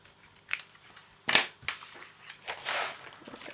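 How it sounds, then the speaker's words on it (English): Scissors snip through a paper strip in a few short, crisp cuts, with one sharper cut standing out, close and fairly quiet, with no talking. "you can snip one of the ends off, which we'll do"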